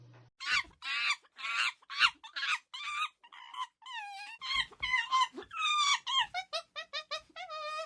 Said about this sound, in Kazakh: Маймыл шыңғырады.